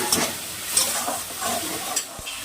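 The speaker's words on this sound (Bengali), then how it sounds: "মশলাটা ভালো করে কষানো হয়ে গেছে" Spice paste for a bhangra fish curry is stirred and fried in a pan with a little water. Scraping strokes and a steady sizzle carry on through the short stretch, close and moderately loud, with no talking.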